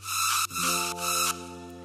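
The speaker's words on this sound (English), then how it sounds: "So angry saw is basically a gladiator preset that's like really distorted saw leads." Heavily distorted saw lead synth from the Gladiator angry saw preset, harsh and buzzy, plays a few short loud notes in under two seconds with steady low held tones beneath.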